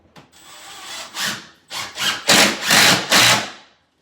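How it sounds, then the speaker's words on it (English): A screw being driven into a wooden cabinet, heard as a series of rasping, grinding bursts that grow louder and closer together. The sound is close and prominent, with no voices. "So we'll send a couple more screws in."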